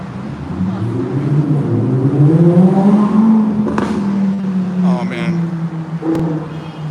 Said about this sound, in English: at night, a lot of these punk kids are driving their cars real fast